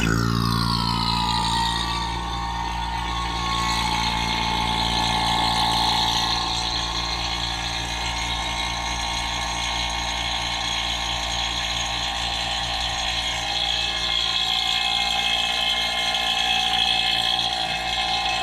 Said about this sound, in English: all I have to do is hit the button and it will start vacuuming